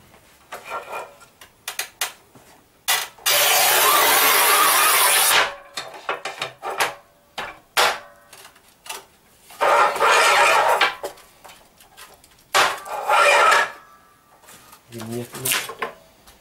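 A Raimondi RAIMO 125 S manual tile cutter scores and snaps 11 mm porcelain stoneware tiles, giving long loud grinding scrapes from the scoring wheel between sharp clacks and knocks, with someone talking in between.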